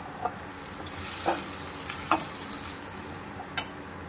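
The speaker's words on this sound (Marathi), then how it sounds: "तो छान परतून घ्यायचा आहे तेलामध्ये." Green chili and garlic paste sautés in hot oil, a steady sizzle broken by several sharp scrapes and stirs of a spoon against the pan.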